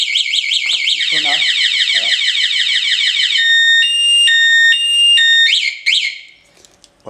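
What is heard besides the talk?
motorcycle alarm sounding on a Suzuki GSXR K2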